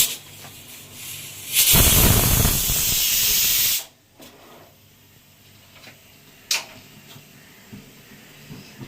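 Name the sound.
pressure cooker hissing steam while cooking fish curry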